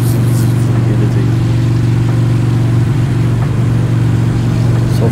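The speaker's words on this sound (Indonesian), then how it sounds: "di sini kalian bisa lihat mobil yang gue lewatin itu kayak zup gitu cuy" Steady loud engine drone while riding a Harley motorcycle past cars, a constant low hum with a brief faint whoosh as a car goes by, no speech.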